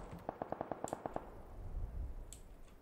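A rapid burst of about ten sharp AK rifle gunshots in quick succession in the video game Battlegrounds, followed by low rumbling and a faint distant pop.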